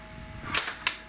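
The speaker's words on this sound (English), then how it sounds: "So what I want to do is spray a little contact cleaner in here." Contact cleaner sprayed into the switch of an arcade monitor, heard as a few short hissing bursts, close and distinct, over a steady electrical whine.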